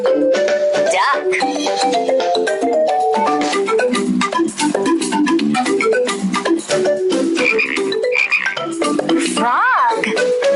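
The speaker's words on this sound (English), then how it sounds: "Frog." Frog croaking from a children's animal-sounds sequence, heard as repeated low croaks under continuous bright music that fills the clip at a steady, loud level.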